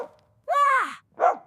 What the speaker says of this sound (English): Luka will bark you down.